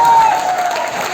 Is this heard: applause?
yes